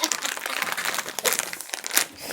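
A plastic wrapper on a Vietnamese snack crinkles and crackles continuously as someone struggles to open it, close and busy with bursts of rustling throughout.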